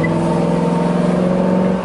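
A Cadillac Allante convertible engine hums and revs steadily up close, a loud continuous motor drone with a rising, throaty tone.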